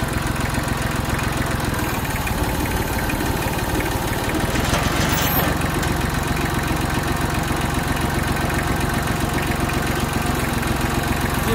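A tractor engine runs steadily at idle throughout, a low continuous rumble with a faint knocking texture and no voices.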